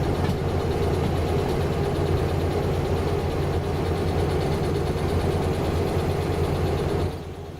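A train locomotive in the Derail Valley video game strains uphill, its heavy engine droning loud and constant before the level drops slightly near the end, no talk.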